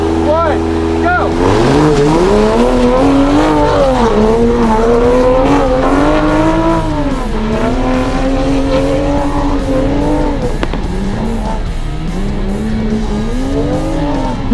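A Toyota Supra thrashed off-road by a racing driver, its engine revving hard and continuously with rising and falling pitch as it spins and skids, loud and close throughout with tire scrabble.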